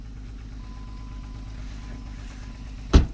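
A 2004 Jeep Liberty Renegade engine idling after a cold start, a steady low rumble with a suspected exhaust manifold leak, holding even before a single sharp knock or thump near the end.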